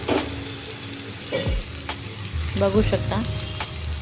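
Roasted bitter gourd pieces tossed into a pan and fried, a sizzle broken by clattering scrapes of a spatula and a few knocks against the pan, with brief speech over it.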